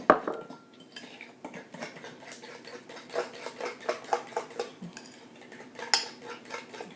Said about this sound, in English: 1 large egg, and give it a beat up, whisk it with your fork or a little mini whisk or whatever you've got.